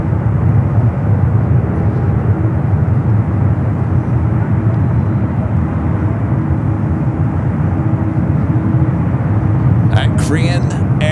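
Airliners at San Francisco SFO airport, including Boeing 787 Dreamliners, send a loud, continuous jet engine roar that holds steady throughout, with a brief chirp near the end.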